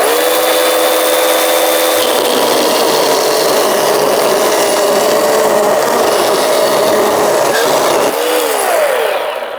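Ryobi 18V 12-inch cordless chainsaw cutting through wood, a loud, close, continuous buzzing whine with a rasping texture that holds steady for nearly ten seconds and dips slightly near the end.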